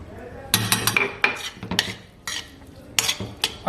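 Boiled rice goes into a pan with meat for an Ottoman palace dish: close bursts of spoon clatter, metallic clinks and scraping against the pan, with quiet pauses between.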